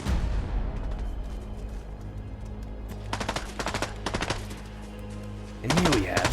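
Video game gunfire rings out in rapid automatic bursts, several sharp volleys spaced over the clip, loud and close, with a player talking over the action.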